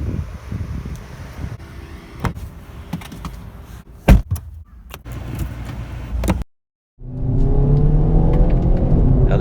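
A 2019 Hyundai Veloster Turbo with a seven-speed dual-clutch automatic driving the front wheels, its engine pulling steadily on a test drive. A door-like thud and a brief silence come before a rising, revving engine note.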